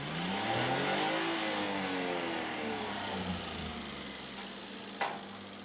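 A mini truck's engine idles up with the PTO engaged to run a dumping bed, then accelerates, giving a loud, steady mid-pitched drone with rising and falling revs, followed by a single knock.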